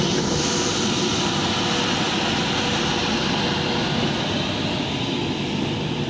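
Pendolino train pulling out of a station near Birmingham, a continuous broad roar that stays steady and loud throughout, with no speech.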